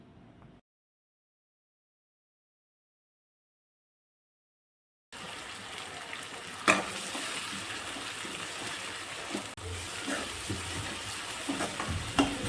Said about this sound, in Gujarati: હવે ટમેટાં નાખી દઈશું અને સરસ રીતે મિક્સ કરીને ચડવા દઈશું